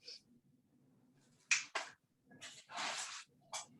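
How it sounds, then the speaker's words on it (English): Several sharp finger snaps aimed at a house cat, spaced irregularly in a quiet indoor room, each a crisp close click separated by near-silence. "Sorry, I had to snap my fingers at my cat."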